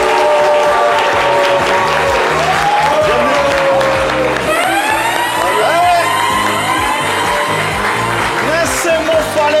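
Loud applause and cheering from an audience welcoming Ivorian writer Nesmond Falé at a literary event, with whoops and shouts over steady clapping and music rising partway through.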